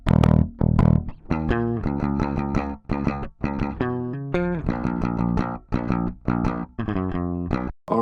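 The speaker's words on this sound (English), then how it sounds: "The next major element you can hear is the bass" Unprocessed electronic bass line from an EP track, a run of rich harmonic synth notes changing pitch in a steady rhythm, loud and alone with brief gaps between phrases.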